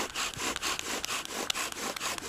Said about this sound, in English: So I'm running it with a little bit of pressure to fill up the notch powder.